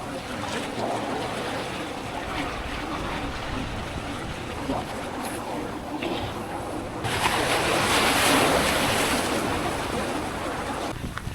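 Strong wind buffeting the microphone over rough sea waves as a storm approaches, a continuous loud roar that swells stronger in the second half, with no clear speech.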